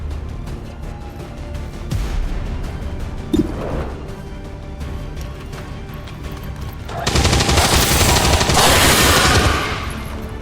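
Rapid automatic gunfire from the XCOM 2 video game, steady bursts through the first part, then a louder, denser fusillade swelling near the end, with no talk.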